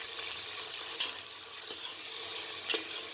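Meat with garlic and ginger frying in a pan for kaddu gosht, a steady close hiss of sizzling oil with a few sharp crackles and spatters, no voices.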